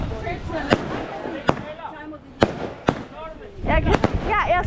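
New Year fireworks go off in a run of sharp cracks and bangs, some near and loud, with crackling bursts toward the end, as people talk in the background.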